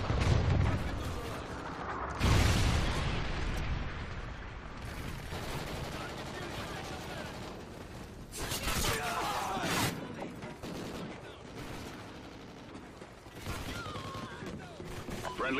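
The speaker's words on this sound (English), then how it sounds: "Friendly Trinity rocket inbound." Trinity rocket strikes hit during a combat video game, giving a series of rumbling explosions and crackling bursts, loud and close, with heavy blasts near the start and several more later amid continuous battle noise.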